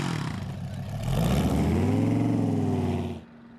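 A motorcycle built by Allen Millyard is opened to full throttle after a mile run-up, its engine climbing in a rising, smooth howl that swells loud for about two seconds, then cuts off sharply to a faint residual hum.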